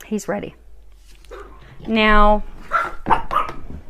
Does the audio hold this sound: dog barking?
yes